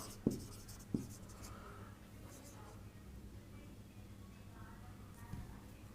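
Soft scratching of pen on paper as a maths fractions solution is written out, faint and intermittent with a few sharper taps, under quiet low room noise.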